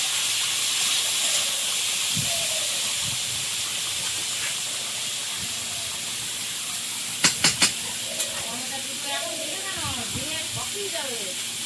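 Prawns coated in salt and turmeric frying with onion, garlic, green chili and small whole tomatoes, giving a steady broad sizzling hiss, with a few sharp clinks of a utensil partway through.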